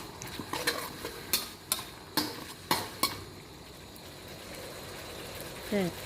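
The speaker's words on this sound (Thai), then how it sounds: "ผัดนอเลี้ยงให้สุกประมาณนึงซะก่อน" Nor-riang shoots stir-fried in a pan, a series of sharp utensil scrapes and clanks against the metal in an uneven rhythm over a faint steady sizzle, with someone talking quietly nearby.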